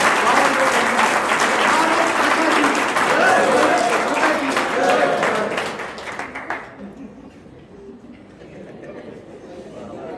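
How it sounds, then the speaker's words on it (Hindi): Loud applause from an audience at a Hindi lecture on the Ramayana, dense clapping for about six seconds before it fades into quieter room noise. "जोरदार तालियां बजाइए।"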